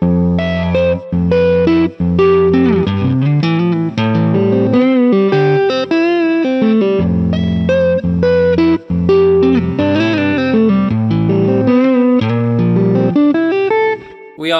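Distorted electric guitar in FACGCE tuning plays the intro riff of a song, bending notes through effects and reverb in a dense, continuous run that sounds loud and close, with brief dips between phrases.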